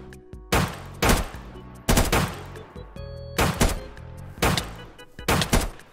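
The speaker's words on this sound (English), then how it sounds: "Oh, it's bandit shooting." Bursts of video game gunfire from a bandit enemy, five loud rapid volleys a second or so apart, each a dense rattling cluster of shots with quieter crackle and thuds between.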